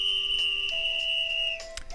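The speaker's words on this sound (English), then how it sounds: "harvest sprite whistle" Harvest sprite whistle from the Harvest Moon: The Lost Valley video game, a sustained high electronic tone that drops to a lower note, followed by a few short chiming blips, heard alone.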